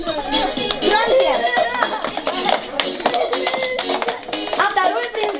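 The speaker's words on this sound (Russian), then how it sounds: "Давайте быстрее хлопаем." Children at a birthday party clap to welcome the princesses, with rapid, uneven claps mixed with excited voices and an adult talking over the noise.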